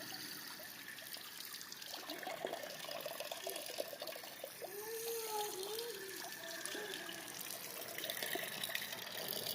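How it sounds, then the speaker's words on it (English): A rugged Doogee V20 smartphone is dunked and washed in water, giving a continuous trickling, splashing wash of liquid at moderate level with brief faint tonal squeaks partway through. "Put this in the water and take it out and wash it."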